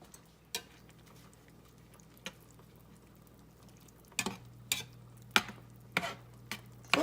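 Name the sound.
stirring spices and seasonings into the pan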